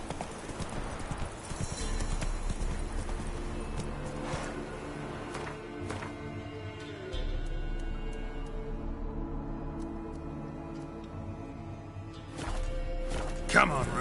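Roach the horse gallops in The Witcher 3, steady clip-clop hoofbeats running under intermittent speech, slowing and picking up again, with a faint whinny and a thump near the end.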